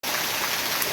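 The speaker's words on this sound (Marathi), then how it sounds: "रात्रीपासून मुसळधार पाऊस सुरू आहे." Heavy monsoon rain that has been falling since the night pours down in a dense, steady, even hiss with no talk over it.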